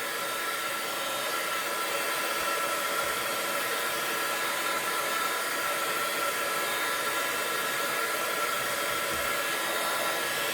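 A hair dryer blows on an art journal page, a steady, even rush of airflow with a faint whine, held constant and close for the whole stretch with no talking.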